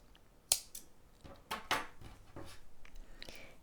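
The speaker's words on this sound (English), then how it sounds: "What we do to finish off is we will cut our yarn" Scissors snipping crochet yarn, a few sharp close clicks and cuts spaced over a quiet background, with no talk.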